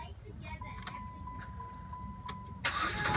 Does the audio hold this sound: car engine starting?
yes